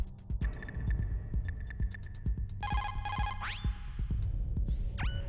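A Metal Gear Solid: The Twin Snakes codec call rings out as a repeating electronic chirp, close and steady. Bursts of beeping tones fall over a low throbbing game backdrop, with no talking.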